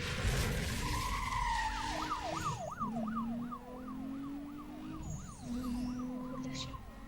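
Police siren from a pursuing cruiser in Need For Speed Most Wanted, a rapid wailing sweep that rises and falls steadily over a low engine drone, with tire noise and a second fainter siren layer.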